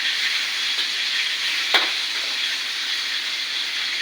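Food fries in a pan with a steady, loud, close sizzling hiss, broken once by a short clatter as it is turned over.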